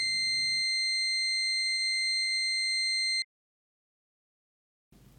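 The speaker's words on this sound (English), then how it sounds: "Press lamp and buzzer test on main control panel and each monitor panel to see all the indicators work properly." A steady, piercing electronic buzzer tone from a nitrogen generator's main control panel buzzer test sounds for about three seconds, then cuts off abruptly into silence before faint background noise returns.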